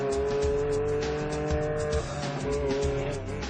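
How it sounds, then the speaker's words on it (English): A two-seater Indy car running on a military base gives a loud, sustained high-revving engine drone with a steady tonal whine and a slight pitch dip midway, close and with no voices. "Actually our first day with a two-seater Indy car"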